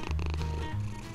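A cat purring close by, a steady low rumbling purr with a brief pause partway through, loud and clear with no talking.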